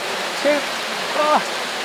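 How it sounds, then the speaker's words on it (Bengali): Heavy rain pours down at the Gabtoli cattle market in 2024, a steady broadband hiss with brief fragments of nearby voices rising over it. "ঝমঝম ঝমঝম বৃষ্টি এরই মধ্যেই"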